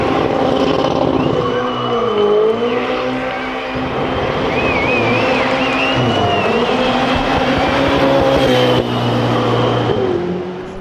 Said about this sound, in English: the roar of the engine